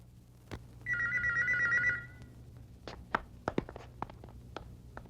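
A telephone gives one short electronic ring burst of about a second, fairly clear in a quiet room, followed by scattered soft knocks and footstep-like taps.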